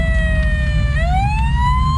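A fire truck siren from the emergency-services game Flashing Lights wails loud and close, sliding down in pitch and then sweeping back up over a low engine rumble, with no talking.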